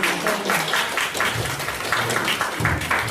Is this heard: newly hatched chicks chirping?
no